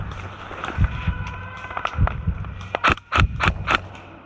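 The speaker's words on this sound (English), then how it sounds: "With all that gunfire, the enemies are soon drawn to my general location." Airsoft guns fire in an outdoor battle: a burst of sharp, close shots, a few scattered pops at first, then a quick cluster near the end, with faint footsteps in between.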